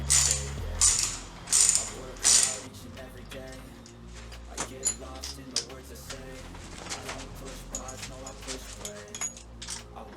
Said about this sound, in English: now I'm going to loosen these top nuts and bolts holding the radiator on.